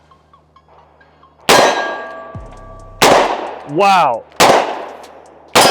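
A Smith & Wesson J-frame Ultra Carry revolver firing defensive ammunition: four sharp, loud gunshots spaced over a few seconds, each with a ringing metallic decay. A short exclamation and a whooping voice come between the shots.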